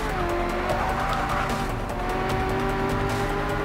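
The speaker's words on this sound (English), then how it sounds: "Braking, slow down." A Shelby GT350R in the racing game Forza Motorsport 6 brakes hard on the Nürburgring, its engine roaring loudly and continuously while the tires squeal and skid, close and dense throughout.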